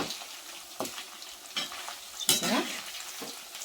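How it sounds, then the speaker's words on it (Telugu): Chicken pakoda sizzles in hot oil on medium heat while a utensil stirs it, giving a steady close crackle broken by several scraping stirs, with no voices. "కొంచెం వేగనిద్దాం వేగిన తర్వాత కలుపుదామండి"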